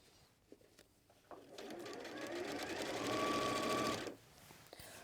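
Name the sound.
sewing machine stitching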